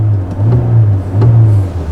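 Hyundai Avante CN7 gasoline engine with EGR, heard from inside the car as it accelerates, a close, low steady hum that swells gently with throttle, no talking.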